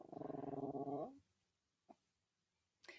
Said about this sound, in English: Uh-oh, Sparky's gonna growl.